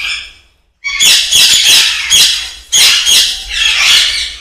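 Ringneck parakeets in an aviary at a large bird nursery in Namangan, loud close bursts of harsh squawks and shrill chirps from several birds, overlapping in waves after a brief pause.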